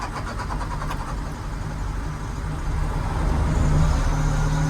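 A DX225 excavator with an oil leak under repair cranks reluctantly and catches, its diesel rumble holding steady and then swelling louder and heavier partway through, close by with no talking.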